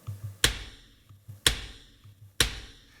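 Drum kit heard alone through a roomy ambient microphone, with three sharp, reverberant snare-like hits about a second apart, each with a long decaying tail, and soft kick thumps between them.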